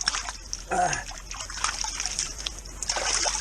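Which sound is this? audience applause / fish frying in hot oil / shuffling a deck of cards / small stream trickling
small stream trickling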